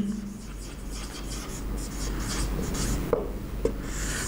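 Marker or chalk writing on a board during a classroom physics lecture, soft scratchy strokes at steady volume with a couple of sharp taps near the end, no talking.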